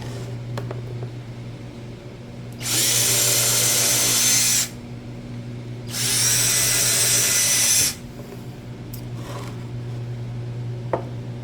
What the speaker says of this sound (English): I probably shouldn't drill a hole into nothing.